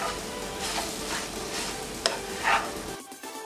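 Semolina roasting in ghee, stirred continuously: rhythmic scraping sweeps over a low, soft sizzle, with one sharp click partway through, close and fairly quiet.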